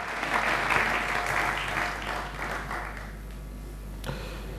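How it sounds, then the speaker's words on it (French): A church congregation claps together, loud at first and then thinning and fading into scattered claps, with a final single clap near the end. "On peut applaudir la parole du Seigneur."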